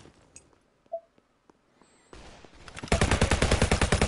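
Automatic weapon fire in the AVLO VR shooter game, a faint scattering of small clicks and pops, then a burst of loud, rapid, evenly spaced gunshots that continues steadily to the end.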